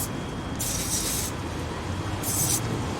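Penetrating spray is hissed onto a stuck bolt on a 1997 Honda Civic engine in two short, close bursts over a steady garage hum.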